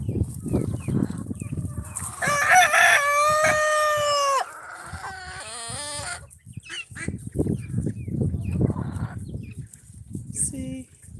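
Chickens and roosters on a farm, with a rooster crowing loudly in the middle and scattered clucking around it, heard over ongoing talk and movement.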